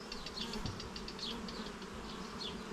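Dense, steady buzzing of many honeybees up close on a hive frame, a continuous droning hum with no voices.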